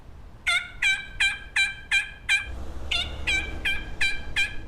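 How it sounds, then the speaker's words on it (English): A wild turkey gobble call plays from a phone speaker, a string of rapid, bright, evenly spaced gobbles repeating at close range over a low background rumble. "So I used my phone and used some turkey calls"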